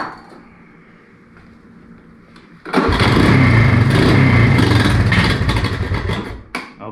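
A 200S engine fires up after carburetor cleaning, catching abruptly after a quiet stretch and settling into a loud, steady running roar close by, then dipping near the end.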